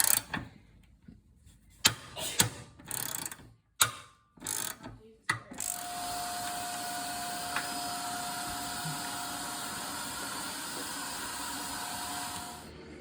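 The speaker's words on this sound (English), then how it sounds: "we'll take our 3/8 wrench and we'll loosen the hard line from the hose" A 3/8 wrench works loose a brake hard line from its hose on a Jeep Wrangler YJ 4.0, with sharp intermittent metallic clicks and ratcheting bursts, then a steady mechanical hum with a faint whine.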